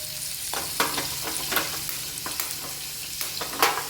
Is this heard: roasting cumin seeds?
yes